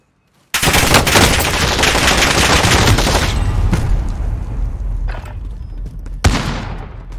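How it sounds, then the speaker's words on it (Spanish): Loud, dense automatic gunfire bursts from Call of Duty Warzone play almost continuously, with sharp individual shots and booms layered over the sustained rattle. "¡Me están disparando!"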